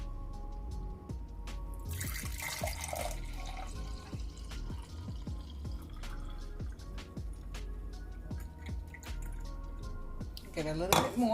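Homemade ginger, aloe vera and lemon juice is poured into a glass, with a steady liquid trickle, drips and light clinks of glassware close by. A voice speaks briefly near the end.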